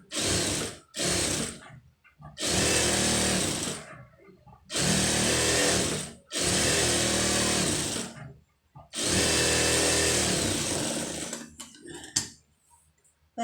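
Sewing machine stitching two lining blouse pieces together, running in several loud bursts of steady whirring separated by short pauses, alone without talk.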